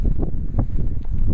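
Wind buffets an outdoor microphone in low, rumbling gusts that swell and fade over a little more than a second, close and fairly loud, with no voice heard.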